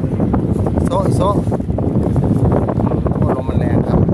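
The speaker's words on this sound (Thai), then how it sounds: "โอ้ลมมันแรงครับ" Strong wind buffets a fishing boat on the water, a steady loud roar of gusts battering the microphone throughout, with faint voices and brief tonal sounds mixed in.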